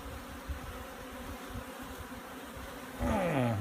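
Honeybees buzzing at a Tanzanian top bar hive during an inspection, a steady close drone that swells louder and rises in pitch near the end as bees fly close by.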